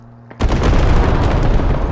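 One heavy gunshot booms loudly in a simulator video game, then a dense, noisy roar rolls on after the initial blast.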